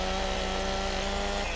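Steady, even engine drone of a chainsaw cutting wood in the farming game Farming Simulator 17, holding a constant loud tone throughout with no talk.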